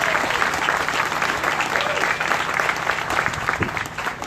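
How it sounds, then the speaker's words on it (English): A crowd at a Republican rally in Greenwich, Connecticut applauds steadily for a group of girls, a close, dense patter of clapping that holds for several seconds without talk. "If we could just give them a round of applause"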